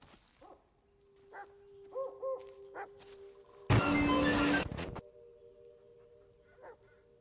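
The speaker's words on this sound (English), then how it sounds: "Dog is barking." A dog barks in the Blair Witch video game, a few short, distant, muffled yaps spaced out across a quiet outdoor scene, broken by one sudden loud burst of noise.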